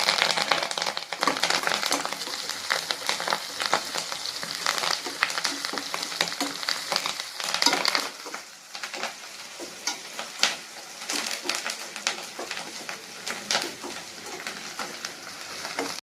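Food sautéing in a pan for a Coimbatore-style chicken dish, a crackling sizzle with frequent stirring and scraping, louder in the first half and softer afterward.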